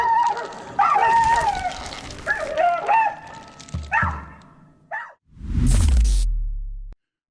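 Dogs roam a road, caught on a trail camera: a few short yelping, whining calls in close succession, then a loud low rumble that swells briefly before cutting off.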